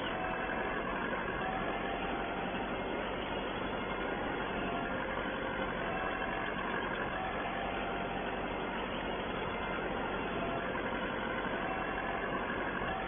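A farm tractor engine runs steadily during spring drilling work, a continuous even drone that fills the whole stretch at constant loudness with no talking.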